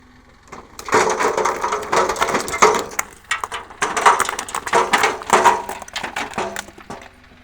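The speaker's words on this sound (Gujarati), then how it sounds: "ટ્રેક્ટરનું હું એટલે પાણા બધા હેઠા પડી જાય" Black stones tumble and clatter out of a tractor trailer onto the ground, a dense, loud rattling cascade in two main surges with sharp knocks, and no voices.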